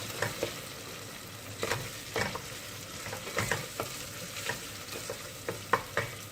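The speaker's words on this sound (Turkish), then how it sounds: "Birazcık kavurun. Soğanımızla salçamız karıştıktan sonra" Onion and tomato paste fry in a pan, a soft background sizzle broken by repeated scraping stirs and clinks of a spoon at an uneven rhythm, close and without talk.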